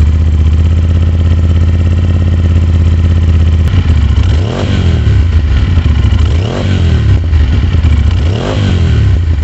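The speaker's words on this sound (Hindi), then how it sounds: "with dB killer sound check करेंगे," Aprilia RS 457 motorcycle with a full Akrapovic Evolution exhaust and dB killer fitted, idling loud and close, then blipped through three sharp throttle revs that rise and fall evenly.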